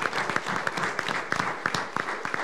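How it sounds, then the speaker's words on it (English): Audience applause at a city commission meeting, a steady wash of many hands clapping with sharp individual claps popping through, fairly close and continuous throughout. "So I'd like to give a big round of applause to them as well."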